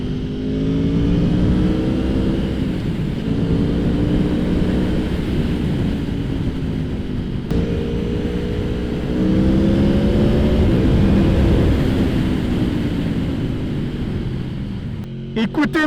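An Aprilia Tuono V4 motorcycle accelerates hard twice in a row, each pass a rising, rasping engine wail that climbs in pitch, drops at a gear change and builds again, loud and close.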